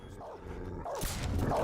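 Dogs barking in a video game, a few short yips and barks rising over busy game sound, moderately loud throughout.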